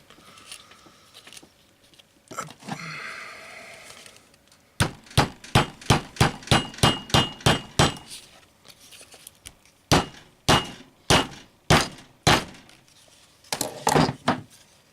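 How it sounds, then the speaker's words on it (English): Sharp metallic hammer blows setting two rivets into leather at once, in quick rhythmic bursts, a run of about a dozen strikes, a pause, then several more evenly spaced hits, close and loud. "I put that other rivet on so I can hammer them both at the same time."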